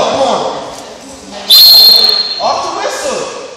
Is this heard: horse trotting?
no